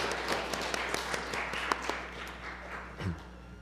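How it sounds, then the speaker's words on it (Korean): A church congregation gives faint, thin applause to welcome returning visitors, scattered claps over a low hum of the room, fading toward the end with a brief low thump. "우리 박수로 맞으시면 감사하겠습니다"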